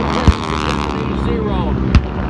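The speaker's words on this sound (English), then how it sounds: "Listen to the roar of the engines, the sound of the air raid sirens and gunfire." Simulated gunfire and explosions at a Tora Tora Tora Pearl Harbor reenactment during an air show in north Georgia, with two sharp booming blasts over a droning engine roar and a voice talking over the scene.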